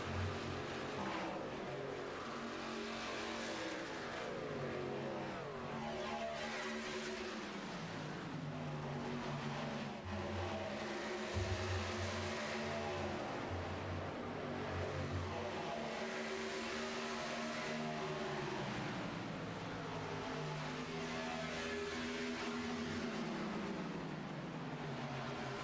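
Race truck engines roar continuously in an iRacing sim race at Texas, a dense pack of engine drones shifting pitch as trucks jostle for position, steady and loud throughout with no talk.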